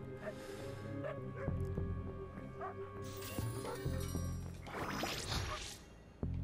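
In the video game Funko Fusion, several dogs yip, whimper and bark in quick repeated bursts over a busy layer of game music and effects, with a sharp thud near the end.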